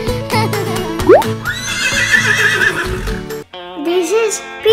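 A horse whinnies in a rising, wavering call amid a busy children's activity setting, with clip-clop and music-like tones around it and voices nearby.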